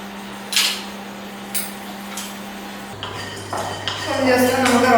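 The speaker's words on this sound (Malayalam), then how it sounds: "ഞാൻ കാഷ്യൂനട്ട് ജസ്റ്റ് ഒന്ന് റോസ്റ്റ് ചെയ്യാൻ വേണ്ടിയിട്ട് ഇതിലോട്ടേക്ക്" Cashew nuts go into a pan for roasting, with a few sharp metallic clinks of a utensil against the pan, followed by a growing sizzle.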